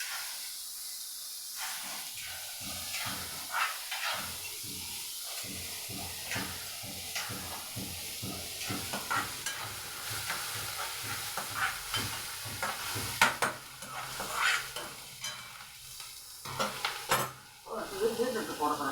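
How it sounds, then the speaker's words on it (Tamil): Onions and beetroot sautéing and being stirred in a pan, a steady close sizzle and hiss with repeated scraping stir strokes throughout, no speech. "வெங்காயத்தை நல்லா வதக்கிட்டு அதில் பீட்ரூட்டை போட்டு"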